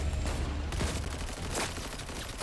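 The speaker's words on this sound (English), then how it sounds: "Using a shotgun!" Shotgun blasts and gunfire in the Cyberpunk video game, dense loud bursts with heavy low booms that overlap into continuous combat noise.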